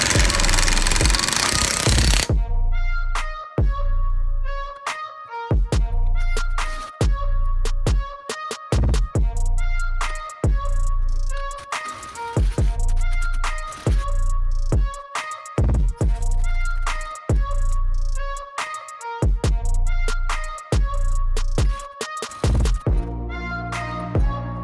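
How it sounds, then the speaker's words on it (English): An impact wrench tightens a nut to pull a wheel stud into the hub of a 2007 Subaru WRX STI, firing loud, close, rattling bursts again and again, separated by short pauses, for the whole stretch. "Now this is gonna pull the stud right into the hub."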